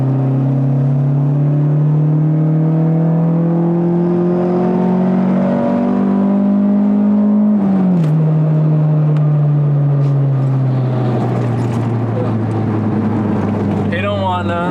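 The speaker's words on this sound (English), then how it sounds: "Rev it real quick." A small sports car, a Toyota MR2 or Honda Del Sol, revs loudly close by, engine pitch climbing steadily then dropping and building again, with voices talking over it.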